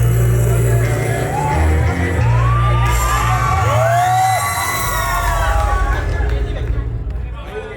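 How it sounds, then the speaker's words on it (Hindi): An audience at a film trailer launch press conference breaks into loud, sustained cheering and applause, with rising whistles and crowd hubbub filling the room throughout. "जोरदार तालियां फरीदा मैम के लिए एक बार"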